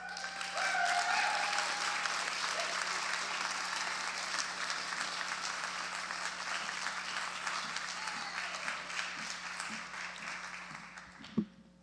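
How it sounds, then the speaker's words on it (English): Audience at a workers' organizing conference applauds after a speech, a loud, sustained clapping that holds for several seconds before tapering off, with a brief knock near the end. "I want to give him a round of applause again"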